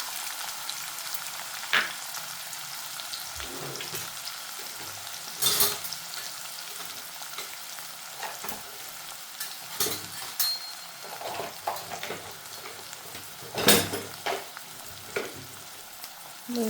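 Onions sizzle in hot oil in a pan for a vegetable sabji, a continuous frying hiss punctuated by occasional sharp clinks and scraping stirs of a utensil against the pan.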